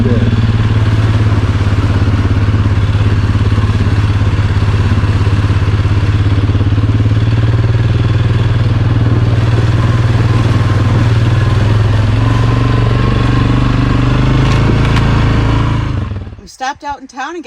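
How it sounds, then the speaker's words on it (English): An ATV runs steadily along a flooded trail near Copper Harbor, Michigan, its loud engine droning close up with clattering and thumps from the rough ground, until it cuts off abruptly near the end. "cruising right along on the ATV trail"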